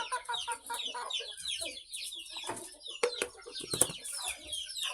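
A white hen with four young chicks, soft close clucking and high peeping chirps scattered irregularly across a quiet background.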